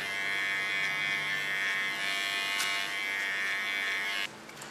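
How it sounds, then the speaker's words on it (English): Small electric hair clipper cleaning up the contours of an ultra-short haircut, a steady close buzzing hum held for several seconds before cutting off near the end, with no voices. "With a small clipper, I just clean the contours, so I have no small hairs left."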